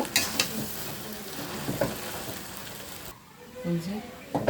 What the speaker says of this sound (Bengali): ঘিয়ে ভালো করে বুটের ডালটা ভেজে নিচ্ছি